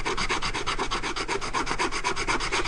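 Sandpaper is rubbed by hand in quick regular back-and-forth strokes against the edge of a layered paper project, giving a steady rasping scratch, close and moderately loud with no voices.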